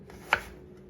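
A kitchen knife cuts through a knob of ginger on a board, producing one close, crisp chop against a quiet background.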